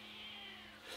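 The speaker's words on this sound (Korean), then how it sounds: "고양이 울음소리 들리시죠, 여러분?" A cat's drawn-out, tense meow sounds faintly at a bush campsite, a wavering cry that rises slightly at the end.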